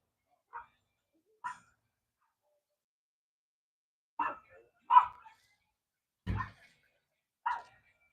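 Puppies bark in six short, sharp yaps, spaced irregularly with long quiet gaps between them. They sound close and clear, with no talking underneath.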